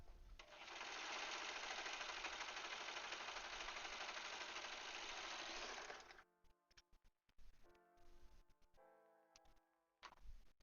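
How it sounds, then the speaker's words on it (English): A serger runs continuously for about six seconds, joining fleece sweatshirt pieces with a loud, steady, close buzz, then stops, followed by softer handling clicks and rustles. "I want to use my serger"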